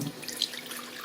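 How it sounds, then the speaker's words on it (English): Water runs steadily from a tap into a pot, splashing softly in a brief, close, continuous stream. "I should put some water in the pot"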